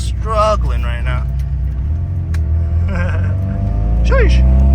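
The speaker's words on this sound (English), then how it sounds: "we hitting this big ass bump" Inside a Nissan R32 Skyline as it rolls over a big bump, a steady loud engine rumble and road noise swelling slightly toward the end, with voices exclaiming over it.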